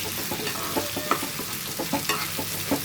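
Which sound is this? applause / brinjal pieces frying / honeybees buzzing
brinjal pieces frying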